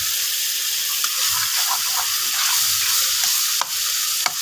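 Spice masala sautés with a splash of water for Kashmiri aloo dum, giving a steady, loud, close sizzle. A few faint stirring scrapes rise above it, with no voices.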